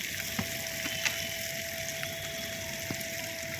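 Onions and green chillies sizzle in hot oil in a pan for tomato curry, a steady frying hiss with a few soft clicks and stirring taps, close and even throughout.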